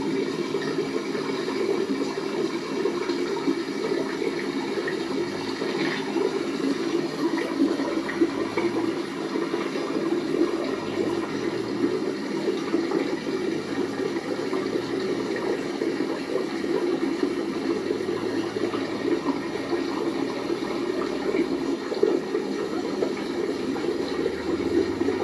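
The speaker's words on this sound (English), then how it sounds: "Right where this tributary feeds into another creek, a more stronger creek." Creek water in the Adirondack Mountains rushes steadily where a small tributary feeds into a stronger creek, a gold-panning spot on state land; a continuous close-up wash with no voices.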